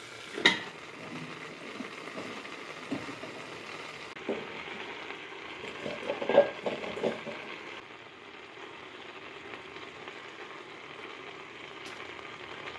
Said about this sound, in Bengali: দিয়ে একটু কষে নেব কুমড়োটা একটু কষা হয়ে গেলেই এর মধ্যে ছেড়ে দেবো আগে থেকে ধুয়ে কেটে রাখা পুঁই শাক